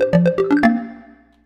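A device ringtone plays a short rising-and-falling melody of five quick tonal notes, the last one ringing out and fading over about a second, heard alone and fairly loud.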